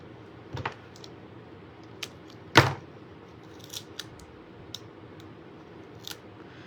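Scissors snip paper while trimming a piece for a handmade shaker card: a few sparse, quiet cuts, one sharper and closer snip in the middle, over a soft room background.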